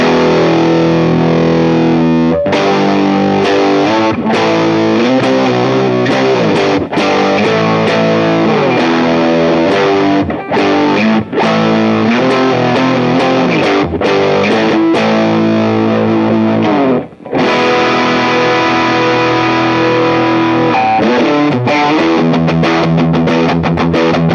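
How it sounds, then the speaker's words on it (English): Electric guitar played through a Keeley-modded Boss DF-2 Super Feedbacker and Distortion pedal, thick and saturated, with chords and riffs ringing continuously at loud volume with a few brief pauses. "if you're going to use this pedal, you got to crank the distortion"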